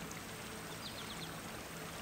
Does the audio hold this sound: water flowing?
yes